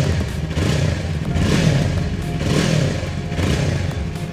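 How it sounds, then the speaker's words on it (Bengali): A Yamaha R25 motorcycle's exhaust runs steady and loud at close range, its note swelling in a few rhythmic rev-like pulses with a low rumble and no talking. "এই বাইকটির এক্সজস্ট বা সাইলেন্সার পাইপের সাউন্ড যথেষ্ট ভালো।"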